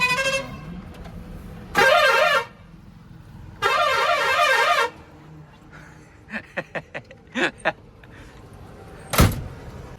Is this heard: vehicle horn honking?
yes